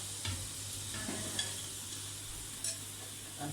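Cut okra dropped into a hot kadhai, giving a soft sizzle with scraping stir strokes and a few clinks over a steady low hum, fairly quiet and without voices.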